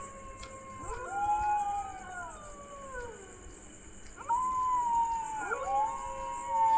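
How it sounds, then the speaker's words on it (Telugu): Several dogs howl in long, wavering, overlapping tones at a distance, over steady rhythmic insect chirping at night. "కుక్కలు కూడా అరుస్తున్నాయి"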